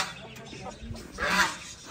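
Hens and roosters in a backyard mini zoo cluck and squawk at close range, with several short calls and a louder burst near the end, over a faint background.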